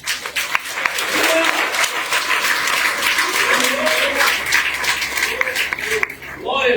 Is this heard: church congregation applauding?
yes